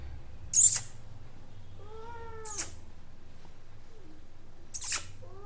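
A pet cat meows several times, with a loud cry and two shorter, rising calls spread out, while being given medicine indoors, close to the microphone, over a low steady hum.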